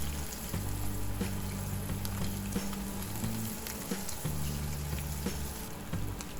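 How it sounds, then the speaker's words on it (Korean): A coated fish pan-fries in a generous amount of oil, giving a steady, close sizzle and crackle with a low hum running underneath and no speech. "이제 팬에서 이제 튀기듯이 이제 노릇하게 구워주시면 돼요"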